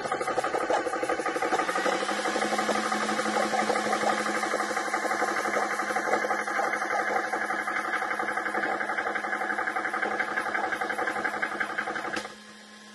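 A PCP air compressor for airguns runs steadily with a blind plug fitted on the outlet, giving a loud, continuous mechanical hum with fast rhythmic pulsing, and a fan runs alongside before the motor cuts off near the end.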